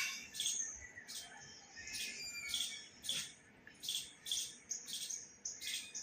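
A small bird calls nonstop in sharp, repeated bursts, fairly faint but rhythmic, with no voices over it.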